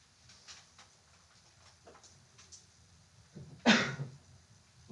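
A single sharp sneeze bursts out once, fairly loud, in a quiet room during a maths lesson, with faint room noise and small clicks before it.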